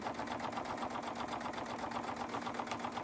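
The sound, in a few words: sewing machine stitching along a seam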